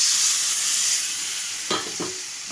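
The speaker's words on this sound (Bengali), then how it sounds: "মশলা ধোয়া জলটা আমি ঢেলে দেওয়া হলো" Spice-washing water poured into masala frying in oil in a pan, a loud steady sizzle and hiss ending in a couple of sharp spatters.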